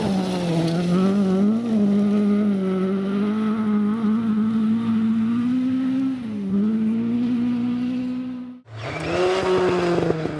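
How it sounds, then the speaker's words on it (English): A Category K Ford Escort Mark II rally car screams flat out through a forest stage, its engine note holding a high steady drone with small pitch dips. It cuts out abruptly near the end and then roars back as the car pulls away again. "Darren Moon and Alan Walker slide their Category K Escort Mark II around the forest."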